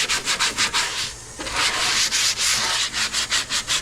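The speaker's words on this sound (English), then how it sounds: "we just gonna give it a little bitty rinsey rinse with some fresh suds" A pre-seasoned pan being scrubbed with fresh dish soap suds, a steady rhythmic rubbing and swishing with regular back-and-forth strokes, close and fairly loud with no talking.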